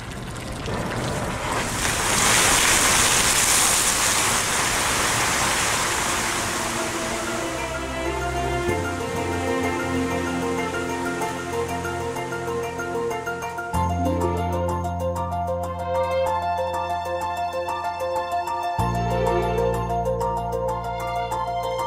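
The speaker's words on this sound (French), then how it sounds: "un moteur se met en route, un deuxième par la suite, et ensuite la vanne qui est derrière moi s'ouvre et le jet jaillit" Geneva's Jet d'eau, the lakeside fountain, starts up as pumps run and a valve opens to release a powerful water jet. A loud broad rushing roar builds, then gives way to steady droning tones.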